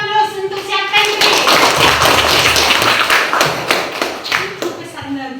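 Classroom audience gives a burst of loud, dense clapping close by for several seconds, with voices mixed in underneath.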